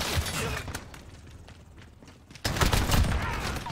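AK-47 gunfire in a Call of Duty Modern Warfare online team deathmatch: rapid bursts of shots crackle over game noise, quieter at first, then a louder cluster of firing near the end.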